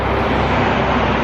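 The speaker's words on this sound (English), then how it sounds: "Sorry about the road noise" Steady broadband road traffic roar from cars and other vehicles on a nearby highway beside a hiking trail, loud and continuous with no breaks.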